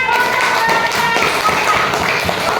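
Children in a primary school Islamic jurisprudence (fiqh) classroom clap together in a dense, steady burst of close, fairly loud clapping that lasts the whole moment, with faint room noise and no clear talk.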